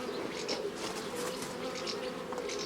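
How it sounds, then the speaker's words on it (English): Honey bees buzz steadily in an opened hive during an inspection, a dense, continuous close-up drone with no speech over it. "the nurse bees have been separated from the queen bee downstairs"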